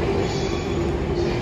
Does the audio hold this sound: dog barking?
no